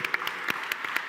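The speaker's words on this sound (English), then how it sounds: "Please do applaud." An audience at a Bitcoin conference panel in Prague claps briefly, a light, moderately distant patter of applause with no talk over it.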